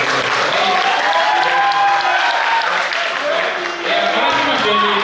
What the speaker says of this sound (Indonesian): beri aplaus untuk Mas Jenny